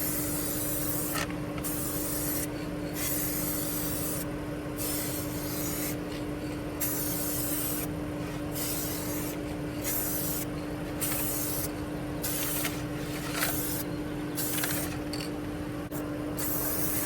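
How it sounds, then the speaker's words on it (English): A spray can laying down a paint top coat in repeated hissing passes, each a steady close spray broken by short pauses, over a constant background hum. "So I'm going to apply the top coat again."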